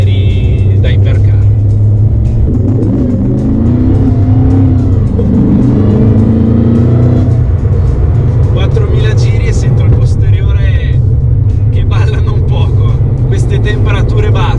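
Supercharged 5.4-litre V8 of a Mercedes SLR McLaren, heard from inside the cabin as a loud, steady engine drone that swells in pitch midway, with someone talking over it throughout.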